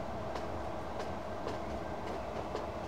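A tram crosses a steel girder bridge in the Transport Fever game, giving a steady rumble of rail traffic with a faint rhythmic clickety-clack of wheels over joints, close and continuous with no talk.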